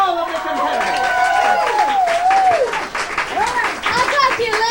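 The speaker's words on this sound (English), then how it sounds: "A round of applause for all of the competitors." An audience at a live comedy improv show at La Val's applauds the competitors, steady clapping and cheering mixed with loud voices and whoops throughout.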